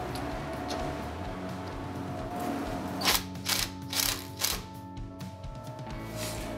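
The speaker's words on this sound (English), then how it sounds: "we'll now affix the second hidden fastener. This will secure the second board into place." A hidden fastener is driven in to secure composite decking boards, with a low mechanical hum and then a few close ratcheting bursts midway, and nobody talks.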